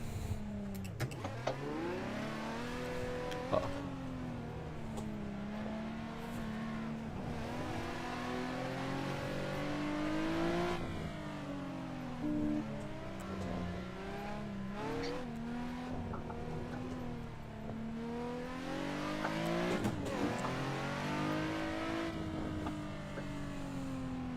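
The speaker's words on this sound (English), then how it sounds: "so you can get good shots of your car skidding. Right, start skidding." Nissan 350Z drifting in tandem at a drift event, its engine wailing and revving in long rising and falling sweeps, loud and steady throughout, with tyre noise blended into the roar.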